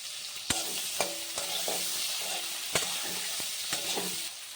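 Ginger paste with chopped tomato and green chillies sautéing in mustard oil, a dense close sizzle broken by several crisp spatula knocks against the pan as the mixture is stirred.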